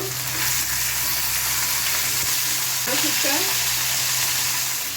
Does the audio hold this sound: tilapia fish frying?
yes